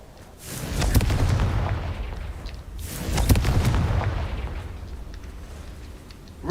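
Two heavy booming blasts from the Confringo fire spell in the Hogwarts Legacy video game, each rumbling and fading over a couple of seconds, loud and close with no talk.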